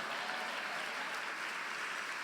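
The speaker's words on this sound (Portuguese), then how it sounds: "Pode aplaudir mesmo, porque é forte" A church congregation applauds in a steady, dense wash of clapping that carries evenly through the whole moment, with no voices standing out.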